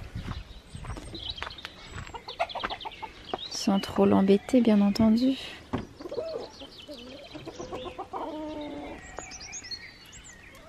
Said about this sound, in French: Les poupoules. Je vais vous montrer celle qui couve.